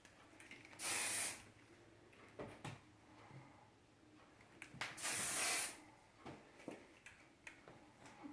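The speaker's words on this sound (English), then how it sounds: "now I'm going to start spraying it and shaping it. If you get this hairspray, it's not going to let their hair move" Aerosol hairspray applied to a cheerleader's styled hair, two distinct hissing bursts about four seconds apart, close and loud, with small handling clicks and taps between them.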